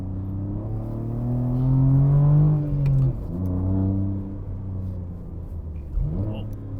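A BMW G80 M3 with rear-wheel drive and a six-speed manual, fitted with summer tires and DINAN monoballs, drives a challenging road, its engine note rising and falling close by through shifts while someone talks over it.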